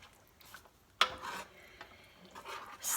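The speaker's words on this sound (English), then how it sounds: "So you want to stir that up." Parmesan gravy being stirred in a pan, with soft scraping and rubbing strokes, a sharper clink near the start, and quiet intermittent scrapes throughout, close and low in level with no talk.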